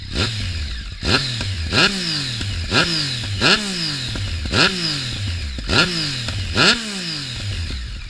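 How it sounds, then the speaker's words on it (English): A Yamaha XSR900 motorcycle engine with stock baffles fitted, sitting at idle and then revved hard in six or seven sharp throttle blips. Each blip rises quickly and falls back, close and loud, with no voices. "let's give the old throttle a whiz and see what happens"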